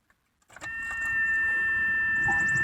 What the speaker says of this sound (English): let's key this thing up and see if she'll run.